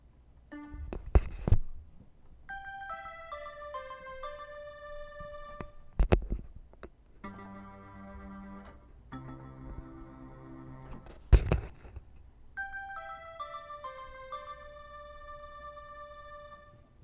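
Warbling, whistle-like electronic alien tones rise and fall in stepped pitch sequences, broken by a few sharp clicks and taps and a buzzing, harmonic drone in the middle, all fairly close and with no talking.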